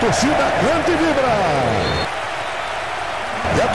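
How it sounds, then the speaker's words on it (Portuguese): A football crowd in the PlayStation 2 game Bomba Patch 2021 sings and cheers loudly after a goal, a dense continuous roar with chanting, dipping slightly midway then swelling again. "E a torcida canta e vibra."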